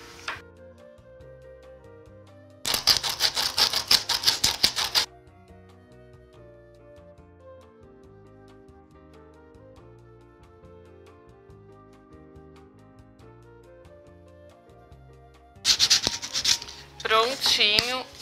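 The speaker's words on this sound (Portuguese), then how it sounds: "agora eu vou lixar ela todinha com a lixa de madeira" Hand sanding of wood with wood sandpaper, in two bursts of brisk back-and-forth rubbing strokes, close and fairly loud, with quiet background music playing between them.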